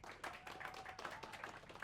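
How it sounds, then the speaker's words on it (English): Audience clapping at a San Francisco AI conference session, a brief burst of scattered applause from a crowd welcoming the next speaker, fairly faint and distant. "Give me a round of applause"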